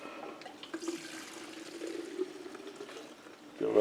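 Mixed two-stroke fuel pours from a can into the tank of a Stihl MS210C chainsaw, a soft, steady liquid trickle close by that swells into a louder splash at the end.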